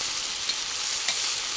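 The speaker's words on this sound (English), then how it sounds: "Approximately for 10 minutes the meat was boiling in oil" Meat for pilau fries in very hot oil over an intense fire, giving a steady, bright sizzle and hiss that holds evenly throughout, with a couple of soft stirring clicks and no voices.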